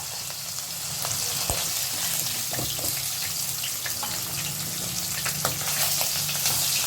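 Hilsa fish frying in a pan, a steady close sizzle with scattered crackles and a few sharp pops running throughout with no voices.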